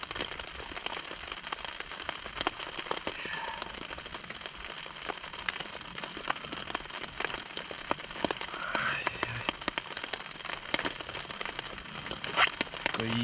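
Steady rain falling through a forest during a wet two-day trek across boggy woods and marshland, a dense continuous hiss with scattered crackling drops pattering close by, and no voices.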